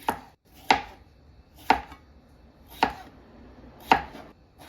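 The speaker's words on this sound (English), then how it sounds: "These fingerling potatoes were so fun to cut. I loved the sound that they made" A knife cuts through juicy fingerling potatoes on a board in five crisp, evenly spaced chops roughly a second apart, close and quiet, with no talking.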